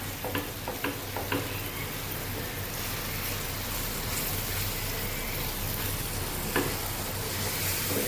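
A ground mango mixture cooks on full flame in a pan, giving a steady, close sizzle and bubbling hiss with occasional stirring scrapes, continuous throughout with no voices.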